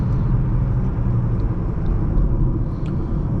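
Cabin drone of a 2015 Honda Civic LX with a five-speed manual, cruising at speed: a steady low rumble of engine and road noise, even and unbroken, with no talking.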